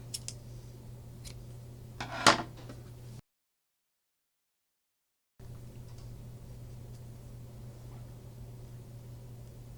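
A single sharp, close snip of scissors cutting crochet yarn stands out against a low steady hum, followed by a stretch of dead silence.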